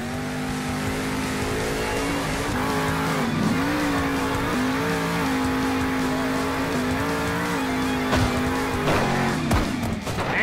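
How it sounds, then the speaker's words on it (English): A monster truck in the Monster Jam Steel Titans video game runs through a canyon backflip event, its engine droning and revving steadily throughout. A louder crash-like burst comes near the end. "And a huge crash by Dragon Ice."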